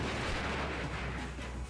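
Dense, rumbling explosion noise fills a brief AI-generated action scene, a continuous loud roar of booms and blasts without pause.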